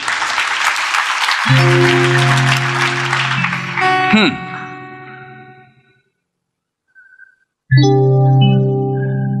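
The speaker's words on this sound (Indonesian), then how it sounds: "Kasih tepuk tangan untuk Tuhan Yesus" Church congregation claps at a worship service, a brief burst of applause that fades as sustained music tones rise, drops to near silence, then music swells back in loudly.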